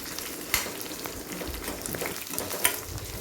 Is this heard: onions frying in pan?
yes